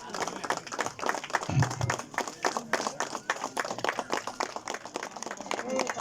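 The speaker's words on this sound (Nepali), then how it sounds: "सो सम्मान साथ सबैजनाले ताली बजाइदिनु होला" A crowd applauding at an outdoor political meeting in Dhading, Nepal, dense scattered clapping sustained throughout, with a brief murmur of voices under the claps.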